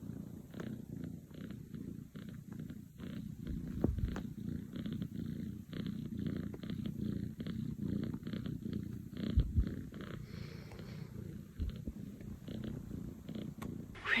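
Kittens purr steadily and close up in a quiet room, a low continuous rumble with a rhythmic rise and fall of breathing, uninterrupted for the whole stretch with no talking.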